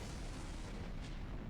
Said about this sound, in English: the casino shook with a violent explosion